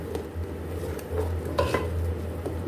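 Spices fry in a pan with salt and crushed coriander, giving a continuous sizzle under a low steady hum, broken by a few sharp clinks of a utensil against the pan.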